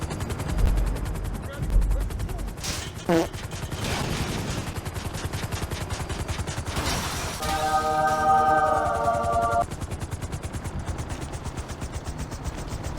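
Gunfire rings out in a gang shootout in a video game, with scattered shots and bursts over a busy backdrop of game noise and a beeping tone, moderately loud throughout.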